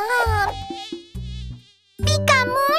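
Mosquito buzzing in a children's cartoon song, high whining tones that rise and waver in two short bursts close up, with a voice likely imitating the buzz.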